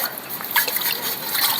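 A paint brush is swished and rinsed in water after its color was loosened in turpentine, giving a close, soft trickling and dribbling of liquid that runs steadily with small splashy drips.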